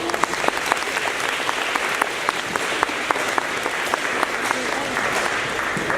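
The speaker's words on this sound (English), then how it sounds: "Give them a round of applause, will ya?" An audience at a 5th grade transition assembly applauds; sustained, even clapping with sharp individual claps popping out of the wash, continuing for several seconds.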